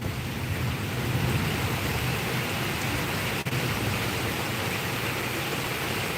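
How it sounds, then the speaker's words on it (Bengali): Heavy rain pours steadily throughout, a thick constant roar of falling water with one brief dip near the middle. "বৃষ্টির পরিমাণ কমছে না, এখনো কিন্তু সেম আছে"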